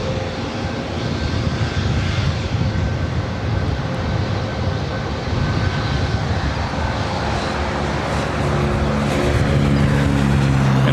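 A British Airways Boeing 777 arriving at LAX roars steadily and loud throughout, a broad sustained engine rumble with a faint tonal whine, swelling slightly near the end.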